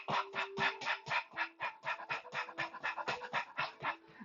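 A man imitates the rapid, shallow panting breaths of someone running, a quick steady run of close, breathy puffs with no other talk.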